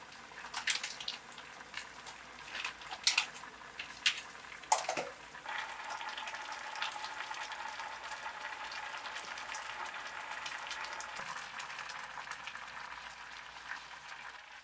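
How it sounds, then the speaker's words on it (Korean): Soup with a bay leaf simmering in a pot, a faint continuous bubbling hiss with some scattered clicks and taps early on, no speech. "월계수 잎을 한 장 넣고 1시간 정도 푹 끓여줍니다"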